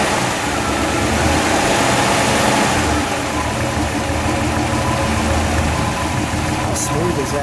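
A 1956 Chrysler 300B with a 354 cubic inch Hemi V8 idles steadily and close by, a smooth continuous engine rumble filling the whole stretch without pauses.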